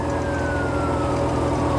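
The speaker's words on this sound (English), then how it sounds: "Apart from the police sirens and traffic." Police siren wailing in traffic near a canal mooring, a single sweeping tone sliding slowly downward, fairly loud against the steady rumble of road vehicles.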